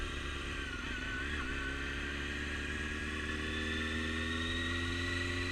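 A motorcycle rides around a training course, its engine a continuous close drone whose pitch dips and then climbs steadily as the rider works the throttle.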